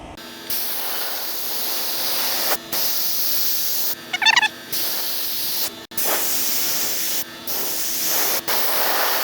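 Paint spray gun fed by an ordinary air compressor, spraying clear coat on a military Humvee: long steady hissing bursts stopping and restarting, with a brief gobbling noise in one gap.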